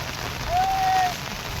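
Heavy monsoon rain pouring down in Dindoli, Surat, a dense, steady hiss of drops striking surfaces, loud and close, with a brief faint tone passing over it midway.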